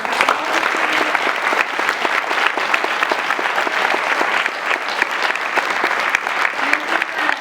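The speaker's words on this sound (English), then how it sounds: "Let's have another round of applause." Dense, loud applause from an audience at a student writing showcase, sustained evenly for several seconds without letting up.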